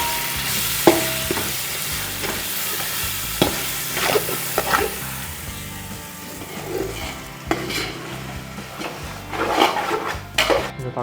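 Tomatoes frying for chicken biryani make a loud, continuous sizzle, with repeated stirring scrapes and clanks against the pot throughout.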